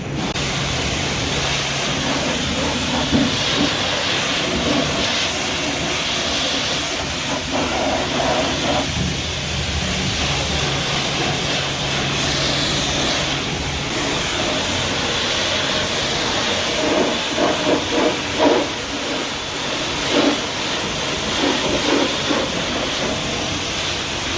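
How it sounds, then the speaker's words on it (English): Spray paint hisses steadily onto the Vortec 350 V8 engine in a 1986 Chevrolet Silverado, a long, even aerosol rush that runs nearly unbroken, with faint knocks and shifts in the background. "I sprayed some more on that motor where that little spot was missing at."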